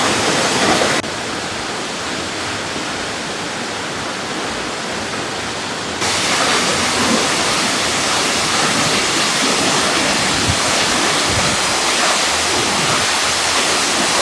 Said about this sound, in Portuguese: Não me canso de filmar essa cachoeira